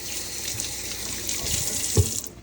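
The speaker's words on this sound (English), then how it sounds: "let me rinse off my hands real fast." A kitchen faucet runs steadily as hands are rinsed under the stream, a close, continuous hiss of water with a brief splash near the end before the flow cuts off.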